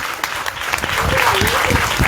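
Audience clapping at a devotional house program in Aligarh, India, a short burst of dense applause with voices speaking over it.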